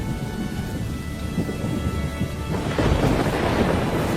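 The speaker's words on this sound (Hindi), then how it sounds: "आज फिर बहुत बारिश हो रही है" Heavy rain pours steadily with deep rumbling thunder throughout, the downpour growing louder and denser toward the end.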